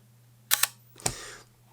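A Yashica 635 twin-lens reflex camera being cocked and fired: a quick pair of sharp mechanical clicks, then after a short pause one more crisp, light shutter snap, close up and isolated in a quiet room.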